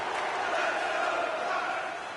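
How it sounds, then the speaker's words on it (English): Arena crowd roaring at a Stars vs Ducks hockey game late in a tied period, a dense, steady wall of cheering and voices from a large audience with no distinct words. "you can feel the energy in this crowd"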